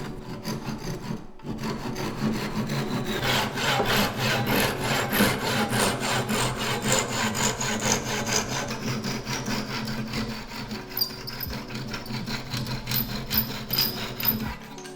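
A hand saw rasps rhythmically through wood, trimming excess from a glued picture frame, steady back-and-forth strokes close up for a long stretch with no talking.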